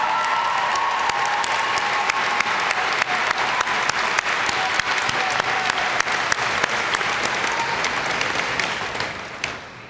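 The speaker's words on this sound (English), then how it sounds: "I would ask our graduating students to please give a standing ovation for the faculty and staff who've dedicated their lives to your learning and development" A large crowd at an outdoor-sounding college commencement rises in a standing ovation for faculty and staff, with dense, sustained clapping that holds steady for nearly ten seconds before beginning to taper off at the end.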